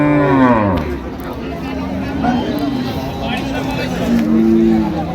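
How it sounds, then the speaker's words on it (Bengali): Bulls and cows at a busy cattle market in Chittagong moo loudly and close by, several long lowing calls overlapping amid crowd chatter and people talking nearby. "ওজনে ষাঁড় গাভী।"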